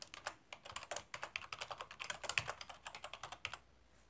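Quick, even computer-keyboard typing of a website name, a close run of crisp key clicks in a steady rhythm that stops just before the end.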